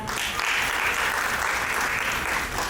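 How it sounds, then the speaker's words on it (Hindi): Hearty applause from an audience at a meeting with women village heads in Ranchi, a dense, even wash of clapping that holds steady at full strength throughout, close and loud. "इसके लिए उनके लिए जोरदार तालियां।"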